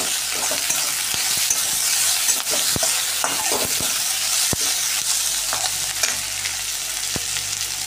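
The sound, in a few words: coriander sizzling in tempering for paneer 65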